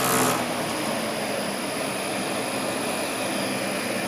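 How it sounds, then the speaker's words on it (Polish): Single-phase electric motor run by a Sanyu SXE inverter at reduced speed gives a steady, even whirring drone with a faint high whine, unbroken throughout and heard alone. "I falownik napędza teraz nasz silnik jednofazowy. Możemy sobie troszkę zmniejszyć prędkość."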